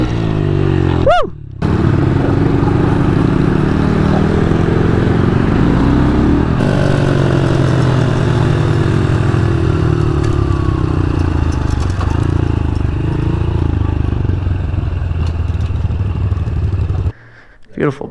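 A 6000 W Razor RSF electric dirt bike with a couple of mods, plus another mini moto, rips around on dirt, a steady loud drone with rising and falling passes and clatter, briefly cutting out near the start and end.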